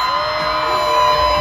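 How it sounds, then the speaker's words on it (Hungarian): A crowd at an outdoor concert in Áporka screams and whoops in one sustained, loud burst with no break. "Akkor próbáljunk még egyszer egy sikolyt!"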